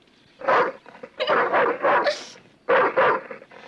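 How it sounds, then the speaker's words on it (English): A dog barks loudly and close in repeated bursts, several harsh barks in quick clusters separated by brief pauses, in a tense dramatic scene from a crime television drama. "It's a good dog. It's a good boy."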